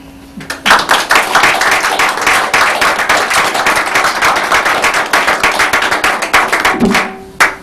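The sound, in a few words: audience clapping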